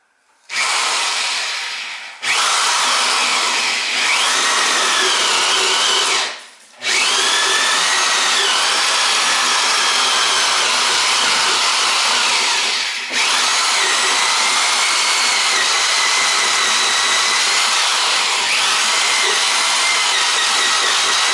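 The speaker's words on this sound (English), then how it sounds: "It's a right angle drill, you can twist it." A right angle drill whines loudly and continuously as it bores up through a wall for a kitchen sink vent, pausing briefly a couple of times before starting again.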